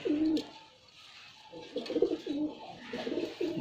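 Pigeons, a puffed-chest breed kept in a pair, coo close by in soft repeated throaty phrases, with quiet rustling between calls and no talk.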